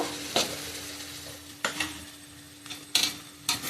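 Ground raw tomato paste frying in a pan for a paneer curry, with a steady sizzle and several sharp scraping stirs of a utensil against the pan, no voices.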